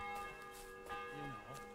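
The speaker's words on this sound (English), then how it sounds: "Every time I hear bells, I think," Church bells toll in the medieval video game Kingdom Come: Deliverance II, sustained ringing tones hanging quietly in the background while a voice speaks over them.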